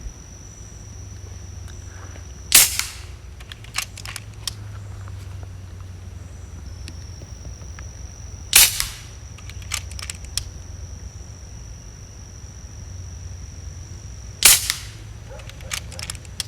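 Three sharp shots from a custom 475 mm FX Impact .25 air rifle firing 18.13 grain JSB pellets at about 1,000 feet per second, evenly spaced several seconds apart over a steady low outdoor hum.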